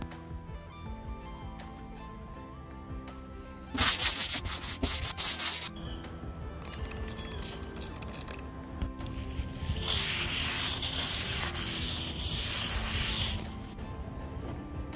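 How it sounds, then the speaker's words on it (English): Filler is sanded on an aluminum Lowe 1648 jon boat with steady rubbing strokes, mostly close and fairly quiet, with louder bursts of rapid scraping in the middle. "So that just needs sanded."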